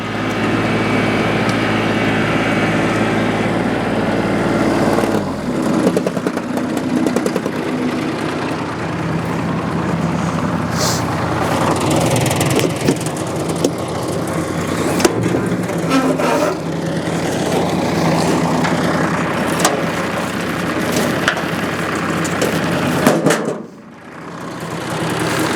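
A lawn tractor tows an MK Martin LS1846 lawn sweeper with a full hopper over to be dumped. The engine drones steadily and close by, with rumbling movement and a short dip near the end.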